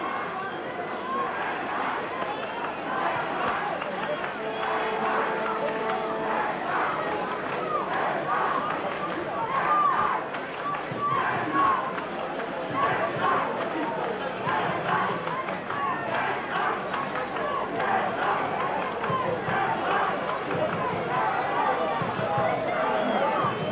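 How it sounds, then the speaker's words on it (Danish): Danish football supporters in the stadium at a Luxembourg versus Denmark match, a steady distant crowd roar with a continuous wash of noise beneath a commentator's voice. "kan måske høre de danske tilskuere."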